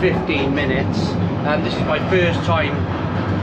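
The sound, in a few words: London Underground Northern Line train running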